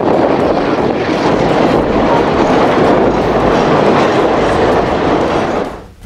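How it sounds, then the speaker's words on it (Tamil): A train rumbles across an iron bridge over a valley in a loud, continuous roar with rhythmic clatter of wheels on metal, fading away at the end. "பள்ளத்தாக்குகளுக்கு இடையில இரும்பாலான பாலங்கள் மேல பயணிக்கக்கூடிய ரயில்கள்"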